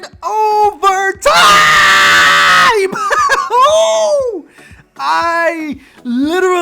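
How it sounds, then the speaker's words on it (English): A person screams and yells at the top of their lungs in celebration of an overtime hockey goal in a Hurricanes versus Lightning playoff game, one long sustained shout between excited vocal bursts, loud and close. "I literally just shouted at the top of my lungs when they scored that overtime goal"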